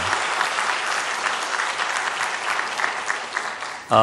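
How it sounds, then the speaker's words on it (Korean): A church congregation at a Sunday service claps steadily after a choir's hymn, a dense, even wash of applause from many hands that stops abruptly near the end. "다시 한번 박수해 주세요"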